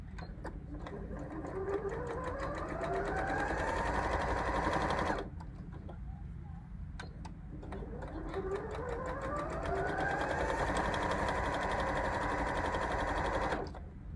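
A sewing machine runs a quarter-inch seam in two long, steady bursts of rapid stitching, with a brief pause between them. The whirring is loud and close, with no talking.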